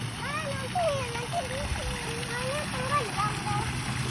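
Water splashing steadily from a small decorative waterfall as a child reaches in to touch it, a constant near splatter under a child's and an adult's chatter.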